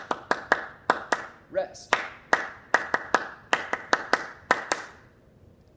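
A group claps hands together in a repeating rhythm pattern, sharp, close, evenly spaced claps grouped in short phrases with brief pauses, and a voice speaks once partway through before the claps stop.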